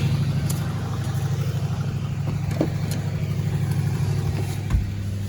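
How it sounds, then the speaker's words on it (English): A farm truck's engine rumbles steadily and pulls away, a throbbing mid-range drone with a few sharp clicks and knocks over it, fairly close. "There's the farm truck. Oh, there we roll."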